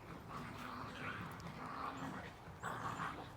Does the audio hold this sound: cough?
no